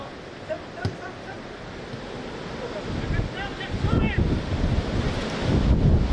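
Gusty wind buffeting the microphone beside a football pitch during a live match, a rumbling low roar that swells louder toward the end, with distant voices and faint whistles or calls in the background.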